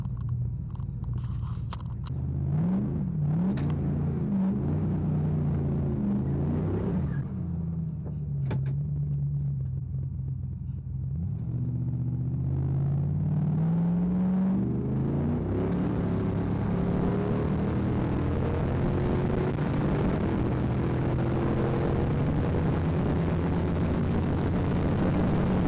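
Turbocharged Ford Mustang making a drag strip launch on a test-and-tune day: a loud, sustained engine roar with rising pitch through the run, a brief lull midway, then a long, building pull to the end.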